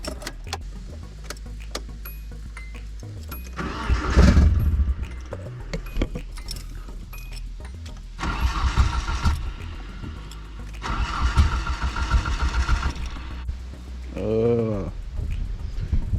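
A Nissan S13's engine is cranked after a repair in several loud, close bursts of starter churning and engine rumble, separated by pauses, ending with a brief rising tonal whine.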